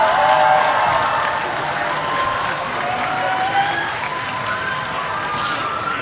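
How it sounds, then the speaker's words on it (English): A sustained round of applause in a hall for a top scorer of the 2025 bar examinations, dense steady clapping from a large audience, loud and even throughout with no speech over it. "let's give a round of applause to Ronald Vincent Ofrecio Gonzalez"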